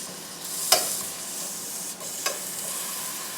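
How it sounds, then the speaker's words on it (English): Halibut sizzles in a frying pan with a steady hiss of frying, broken by a few brief louder spits and crackles, close up with no voices. "Listen to that sizzle."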